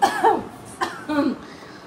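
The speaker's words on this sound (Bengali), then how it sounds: "এত কাশার কি আছে?" Three short, harsh coughs from one person, close and loud, separated by brief pauses, with no other talk.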